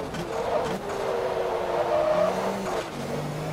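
A race car in Forza Motorsport 2 runs flat out through the opening corners, engine droning steadily with shifting pitch and faint tire squeal, loud and continuous throughout.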